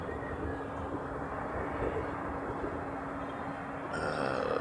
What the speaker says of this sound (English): I think it just got its clearance for takeoff